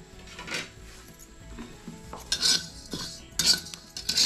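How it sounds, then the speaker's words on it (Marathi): A spoon scrapes and stirs parboiled rice roasting on a flat griddle pan. Irregular metallic scrapes and clinks come close up, with sharper strokes toward the end. "तर हे तांदूळ आहेत ना ते ढवळत राहायचे"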